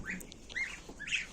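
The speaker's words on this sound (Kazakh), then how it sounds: "Мынау менің қаздарым." Domestic geese kept in a home poultry yard give several short, honking calls close by, rising and falling over about a second and a half.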